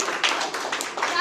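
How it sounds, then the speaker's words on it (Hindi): Brief burst of audience clapping at a Christmas program, a few sharp irregular hand claps in quick succession, close and moderately loud. "तालियां बजाइए"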